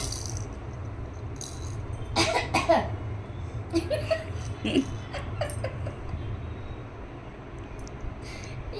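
A few short coughs close to the microphone, with a faint rattle and light background noise around them.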